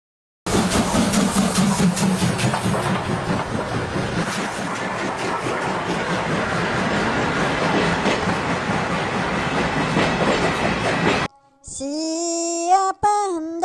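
A Thomas-themed ride train rumbles along the rails with a dense, steady rolling roar, then cuts off abruptly and a brief rising whistle-like tone follows.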